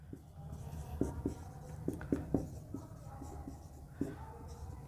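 Pen scratching across paper or a board while notes are written during a chemistry lesson on acids, soft irregular strokes and taps over a low room hum.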